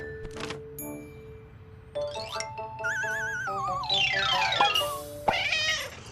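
Cartoon kittens give several high, wavering meows one after another, mixed with bright chiming bell tones and tinkling effects, with no talking.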